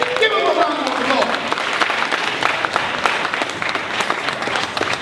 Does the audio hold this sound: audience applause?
yes